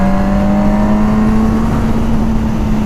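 Yamaha R1 sport motorcycle rolling on the throttle in top gear of its six-speed box, a loud, steady engine drone holding one pitch that climbs only slightly over a few seconds, with no talk.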